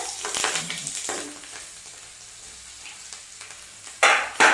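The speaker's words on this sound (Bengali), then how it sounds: "অল্প জিরে, গোটা কাঁচা লঙ্কা দিয়ে ওটাকে একটু নাড়াচাড়া করে" Cumin seeds and whole green chillies stirred in hot oil, with sharp bursts of sizzle and spoon scrapes at the start, a quieter stretch of low frying, then loud crackling flare-ups near the end.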